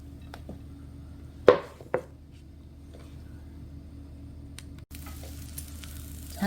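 Pork belly and enoki mushrooms sizzle in gochujang sauce in a pan with a faint, steady crackle, broken by a couple of sharp utensil clatters.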